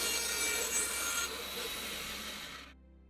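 Bandsaw fitted with a very old blade cutting through wood, a steady close rasping cut lasting under three seconds that fades out as the cut finishes.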